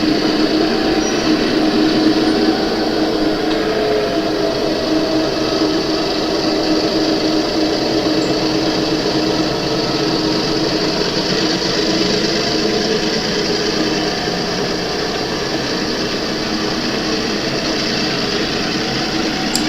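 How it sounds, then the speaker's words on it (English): Twin GP9 diesel locomotives on a model railroad layout give off a steady, even motor hum and rolling whir that holds at a constant level for about twenty seconds, with no talking. "the twin GP9s will cut off and go back to the caboose"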